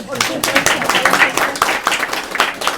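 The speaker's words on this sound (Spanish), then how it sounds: "Y, como no, para un aplauso." Audience applause at a Spanish-language event, a fast, dense patter of many hands clapping close by for about three seconds, with voices mixed in.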